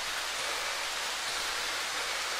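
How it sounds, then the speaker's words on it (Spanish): Steady rain falls in the video game Darkwood, a constant hiss of rain at an even level throughout the short stretch, with no voices. "Si va a ser así toda la noche con lluvia"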